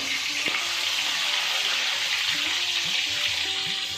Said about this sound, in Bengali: যেভাবে আমরা ভেজে নেবো, খুব সুন্দর করে ভেজে নেবো।